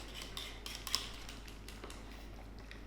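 Metal utensils scrape and tap inside a pot of Hong Kong-style beef brisket noodle soup as bits are fished out, a quick run of light clinks close by over a steady low hum.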